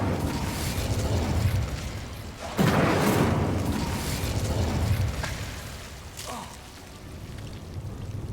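Fiery bursts from the Incendio fire spell in the video game Hogwarts Legacy: a few loud whooshing booms that flare and decay, with a rumbling background between them and no talk.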